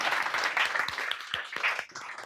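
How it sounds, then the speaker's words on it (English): An audience claps to welcome speakers onto a tech conference stage, close and brisk with distinct individual claps, tapering slightly at the end. "Let's give them a warm welcome and a round of applause."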